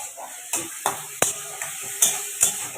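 Vegetables for chow mein sizzle in mustard oil in a pan while a utensil scrapes and clanks against it in irregular strokes, close by.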